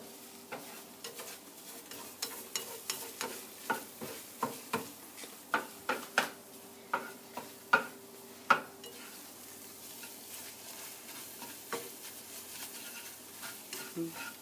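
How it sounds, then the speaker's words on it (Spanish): Eggs cooking in a pan on a stove are stirred with a spatula, giving a series of scraping taps against the pan over a soft sizzle, strongest in the first half and then quieter and sparser. "Mientras los huevos estaban cocinando, mezclan los huevos con una espátula."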